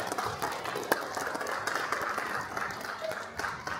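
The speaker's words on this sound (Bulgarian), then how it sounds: "професор Милко Петров, силни аплодисменти за тях, и доцент доктор Катя Михайлова" Steady applause from an audience at an award ceremony of the Union of Bulgarian Journalists, a dense continuous patter of many hands clapping with a few sharper claps, lasting throughout at even loudness.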